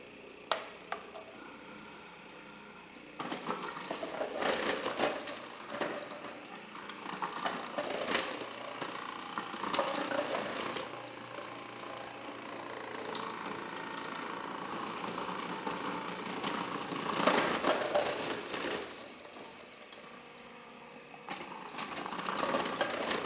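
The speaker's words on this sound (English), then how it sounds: "you can do them in your food processor, just do the slicer blade" A food processor fitted with a slicer blade shreds Brussels sprouts, a continuous close motor whir with rattling and ticking that swells in several bursts and briefly eases between them.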